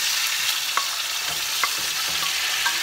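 Food sizzles and fries in hot oil in a pan while a pizza topping with tomato is prepared, a steady hiss with sharp spits and light stirring clicks, no talk.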